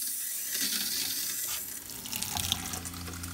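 Pink RV antifreeze pumped through a kitchen cold water faucet during winterizing, splashing in a steady close stream that turns into uneven, sputtering bursts near the end, with no talking.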